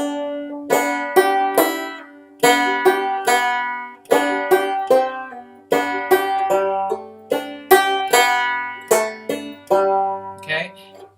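Acoustic guitar picks out the opening phrase of Wildwood Flower with pull-offs, a steady run of bright plucked notes in a lively rhythm, close and clear with no talking.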